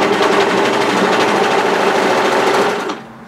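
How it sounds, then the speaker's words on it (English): Overlocker running steadily while stitching the side seams of a woven-fabric cape, a loud close continuous whirring buzz that stops abruptly near the end. "you can just overlock off."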